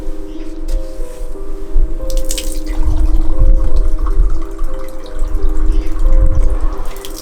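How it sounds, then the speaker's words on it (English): A narrowboat tap runs water into a cup. The splashing stream is steady and fairly loud, with a faint tonal hum from the boat underneath. "I just want to fill it with water to have a drink"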